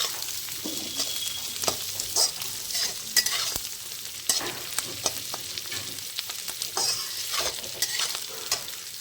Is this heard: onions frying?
yes